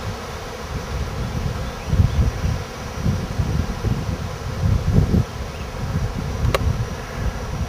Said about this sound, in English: it's just thousands and thousands and thousands of bees